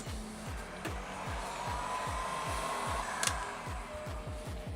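Heat gun blowing steadily while heating vinyl wrap on a Buell motorcycle tank, a continuous airy whoosh and motor hum with a rhythmic pulsing undertone throughout, close and alone.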